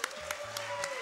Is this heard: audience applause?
yes